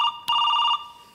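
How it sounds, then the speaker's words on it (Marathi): A telephone rings during a Marathi comedy stage show, sounding as a bright electronic trill that starts with a sharp click and holds steady before fading, close and alone. "तुमचा फोन वाजतोय"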